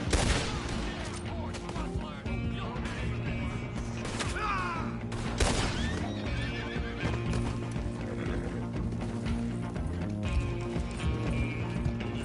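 Horses whinny and hooves clip-clop steadily over video game music on PS4, with bursts of gunfire and occasional speech.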